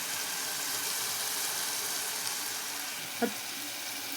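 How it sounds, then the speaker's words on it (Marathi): Tamarind water hits hot frying masala of oil and spices for tamarind dal, a steady close sizzle and crackle that holds evenly throughout, with one brief clink near the end and no talking. "आता शेवटचं आपल्याला हे चिंचेचं पाणी टाकायचं आहे"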